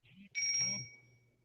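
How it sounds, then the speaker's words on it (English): A single bell rings once, clear and faint, and its bright tone fades away over about a second. A soft murmur sits underneath. "I heard a bell."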